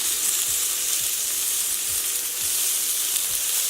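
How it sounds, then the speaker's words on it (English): Shrimp sizzle steadily in a hot pan with garlic and chili, a loud continuous crackling hiss with faint low knocks of stirring, no voices. "I'm going to add the shrimp for about 2 minutes."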